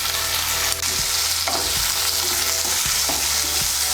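Chopped tomato being stirred into browned onions frying in a pan: a loud, close sizzle under repeated scraping strokes of a spoon against the pan, about one every second. No speech.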